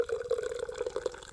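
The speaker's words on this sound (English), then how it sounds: "pour the drink" Chilled Appletiser sparkling apple drink pours into a glass close up, a short gurgling, bubbly liquid stream with wobbling tone and no talk.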